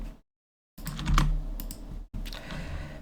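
Computer keyboard typing in a Blender geometry-node setup, a short burst of close, quick key clicks after a brief silence, then more tapping resuming near the end.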